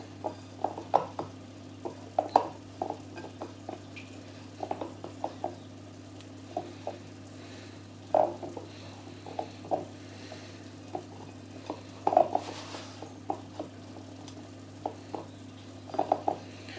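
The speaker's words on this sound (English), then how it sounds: "I'll just see if I can get the last few bits out of the bowl." Pizza dough being scraped from a mixing bowl: a quiet, steady run of soft scrapes and light taps against the bowl, spaced irregularly over a low background hum, with no talking.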